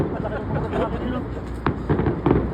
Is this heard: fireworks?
yes